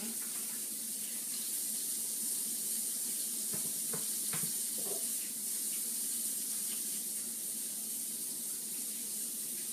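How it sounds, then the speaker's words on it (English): A kitchen tap runs in a steady hiss for the whole stretch while hands are washed under it, with a few light splashes and clinks in the middle. "I'm gonna wash my hands real quick"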